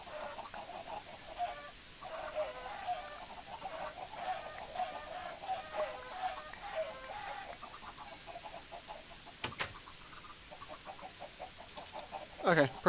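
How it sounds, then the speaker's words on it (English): Chickens clucking on a crowded farm in the video game Minecraft Tekkit, a busy overlapping chorus of repeated clucks and squawks throughout, with a sharp click near the middle and a louder burst at the end. "Oh god, so many chickens."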